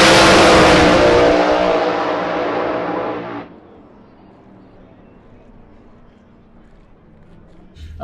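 A Shadow Series racing engine revs hard and loud for about three seconds, then drops to a low, quieter idle rumble. A brief burst returns at the very end.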